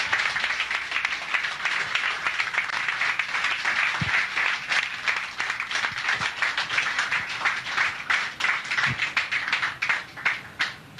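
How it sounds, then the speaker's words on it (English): Crowd applause for pool players at a high-stakes match, a loud, dense and continuous roll of many hands clapping, with scattered sharper claps and a few low knocks, lasting throughout. "Let's give another round of applause for the players."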